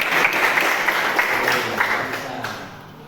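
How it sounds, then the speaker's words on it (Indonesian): Applause from a classroom or workshop audience, a dense wash of clapping that holds steady for about three seconds before thinning out, with no voices over it. "Tepukan tangan nggih"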